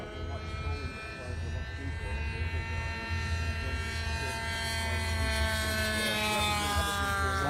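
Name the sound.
E-flite P-51 Mustang RC model planes flying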